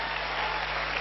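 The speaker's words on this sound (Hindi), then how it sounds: "सबसे पहले तो कंपनी के लिए सबसे जबरदस्त वाली ताली बनती है भाई," A crowd claps steadily for a company at a Safe Shop business gathering, a dense, continuous wash of applause filling the whole moment without pause.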